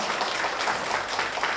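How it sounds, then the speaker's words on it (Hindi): Loud, dense clapping from a large group greeting everyone at a yoga session, steady and sustained throughout with no voices over it. "आप सभी लोगों को जोरदार ताली बजाकर सबका स्वागत करेंगे।"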